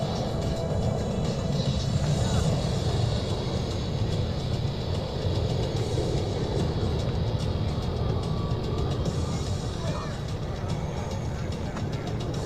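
A C-17 Globemaster III military jet transport takes off at an air show open house, its broad, steady engine roar loud and continuous throughout with a dense low rumble and hiss, no voices over it.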